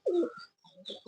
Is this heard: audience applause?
no